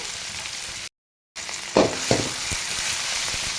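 Vegetables for ivy gourd and bean curry frying in a pan, a steady close sizzle broken by a brief silent gap, then a few stirring scrapes and clinks.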